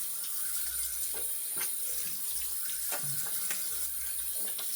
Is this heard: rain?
no